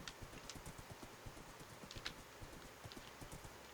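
Rapid hoofbeats from a fast horse in Minecraft patter in a steady galloping rhythm, soft and fairly faint over a low background, with an occasional brief snort.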